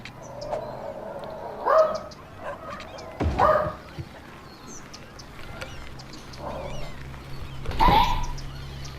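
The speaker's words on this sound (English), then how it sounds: "Sorry, my dog's barking again." A dog barks in scattered single yaps, a few spaced seconds apart, moderately close against a quiet room hum with faint music underneath.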